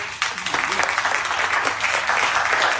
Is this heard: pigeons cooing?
no